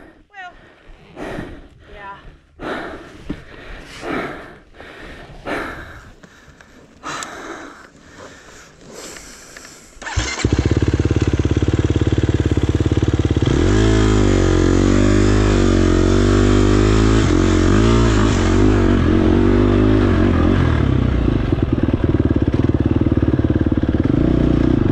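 A KTM 250XC-F dirt bike at a Texas off-road race idles and then roars loudly up close, revving and holding a steady, strained drone for the second half, after a stretch of clatter, breathing and voices talking nearby.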